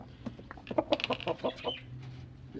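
A broody hen sitting on her eggs lets out a quick run of sharp, close clucks in the middle, then settles into quieter low sounds.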